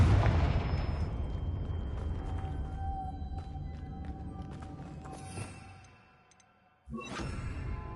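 A Confringo fire spell in Hogwarts Legacy bursts with a loud rumbling explosion that fades over several seconds, then a second sharp blast hits near the end.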